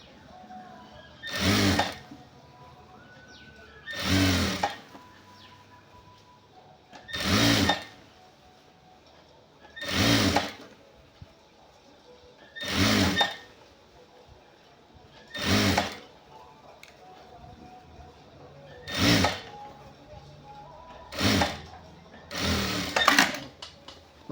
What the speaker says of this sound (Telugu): వీలైనంత వరకు జాగ్రత్తగానే కుడుతున్నాను